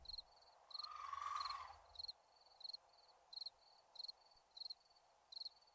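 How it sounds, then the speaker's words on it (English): Crickets and wind ambience in the video game 7 Days to Die, with a steady rhythm of faint, regularly pulsing chirps over a quiet airy background and a brief soft swell of noise early on. "let you listen to the sound of the crickets and wind"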